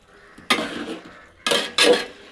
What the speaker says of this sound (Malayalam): ഒന്ന് ഇളക്കി മിക്സ് ചെയ്യും